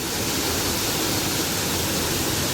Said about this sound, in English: I actually made it to the first waterfall here.